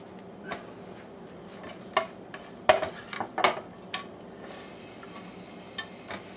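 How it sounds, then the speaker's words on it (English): Bacon is stirred into an already cooked dish of artichoke hearts, with sparse utensil clinks and scrapes against the pan, a cluster of louder knocks midway, over quiet room tone. "Perhaps mix the bacon in first."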